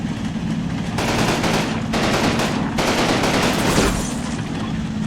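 German machine gun fire in the WWII video game Combat Mission: dense, loud bursts of rapid automatic shots in several long strings separated by short pauses, with no talking.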